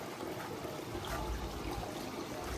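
Falling water from a garden water feature in a shop in Norwich, England, a faint, steady trickling wash with no speech.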